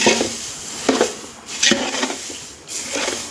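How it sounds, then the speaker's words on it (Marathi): Roasted poha stirred in a pan while making poha chivda, a few short scraping, rustling strokes that come in separate bursts, fairly close. "पोहे हे पोहे टाकून पूर्णपणे हलवून घ्यायचे"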